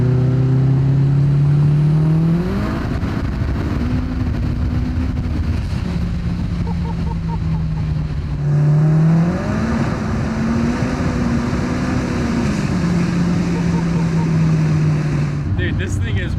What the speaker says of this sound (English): I'll do a little fourth gear pull on you